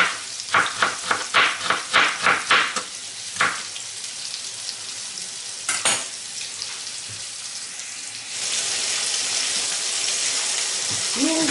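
Pork loin slices sizzle in a hot pan, starting with a run of rhythmic clattering taps, then settling into a steady, loud hiss of frying.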